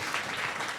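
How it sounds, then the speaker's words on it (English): An audience claps for a design team during an in-person talk, a short burst of dense, even applause from a small group, with no voices. "can we just have one round of applause for these guys"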